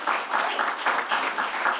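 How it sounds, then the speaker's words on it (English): Audience applause at a community center anniversary event, a short burst of dense, even clapping from a room full of people. "Big round of applause, ladies and gentlemen."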